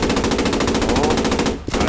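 Rapid machine-gun fire in the World War II game Post Scriptum, a loud, fast, evenly spaced burst that runs almost nonstop, breaking briefly near the end before resuming.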